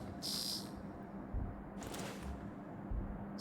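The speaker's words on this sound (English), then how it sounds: "Sounds like a sensor and an alarm or something." Electronic sensor alarm in the video game Paradise Lost, sounding as two bright high-pitched beeping bursts separated by a pause, with a low hum beneath.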